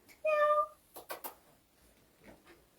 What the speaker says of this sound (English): We might have a cat here, folks. It's a cat.